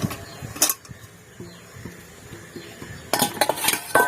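A metal tiffin box holding steamed pointed gourd is set down and opened, giving sharp metallic clanks and scrapes at the start and a cluster of clattering knocks near the end, with quieter handling noises between.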